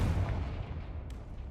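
A Confringo fire spell explosion in Hogwarts Legacy, a heavy low booming rumble that starts loud and decays over a second and a half, with a faint sharp crackle near the end.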